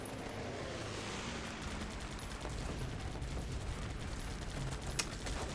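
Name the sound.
bombing run explosions in the video game Guns Up!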